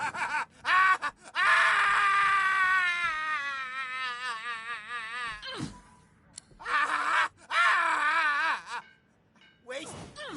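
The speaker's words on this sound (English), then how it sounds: "what was once laughter is now an anguished scream" Long, drawn-out wailing scream from a video game character in Divinity: Original Sin 2, warbling and strained, rising and breaking across several sustained cries with short gaps between them.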